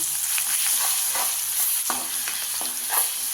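Ginger garlic paste frying in hot oil for prawn thokku gravy, a steady crackling sizzle with repeated spatula scrapes and stirs throughout, heard close with no voices.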